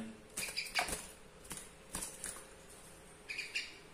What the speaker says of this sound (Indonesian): Coba kita lihat ya, ini di depan saya ini. Ini burungnya.